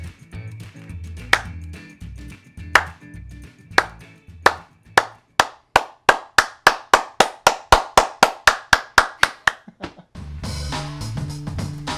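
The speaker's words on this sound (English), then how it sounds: "Clapping." Single pair of hands clapping alone, starting as slow sparse claps and speeding into a rapid, loud, steady run of sharp claps before giving way to a dense burst of background noise at the end.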